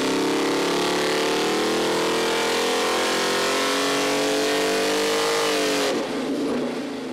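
A powerful LS 408 stroker V8 engine on a dyno revs up hard and steadily climbs in pitch for several seconds, then abruptly drops off as the throttle is released.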